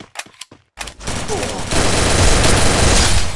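Rapid automatic gunfire roars in a sustained, loud burst during a shooter video game, following a moment of brief talk.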